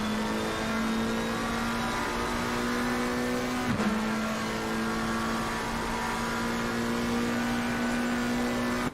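Simulated racing car cornering at Imola in a sim racing game, a steady engine drone holding its pitch with a brief dip and recovery as it turns, moderately loud, no talk over it.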